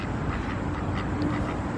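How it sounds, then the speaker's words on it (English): Ducks quacking at close range in an outdoor spot with people feeding birds, a steady burst of calls against background noise, with no talk. "Here's some more ducks."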